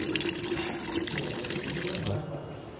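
Tap water runs steadily at a temple hand-washing spot, a close, continuous splashing gush that eases off near the end.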